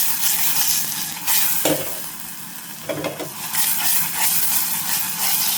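Ricado aromatics sauté in a hot pan ahead of milkfish intestines, with steady close sizzling broken by a few louder stirring scrapes and bursts.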